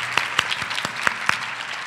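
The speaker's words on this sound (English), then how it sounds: "Let's give them a round of applause as they have done a wonderful job." Luncheon audience at an awards event applauding, a brief steady patter of many hands with a few sharper claps standing out.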